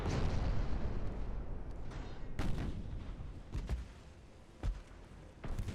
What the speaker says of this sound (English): Now we're starting to get the broadsides in on him.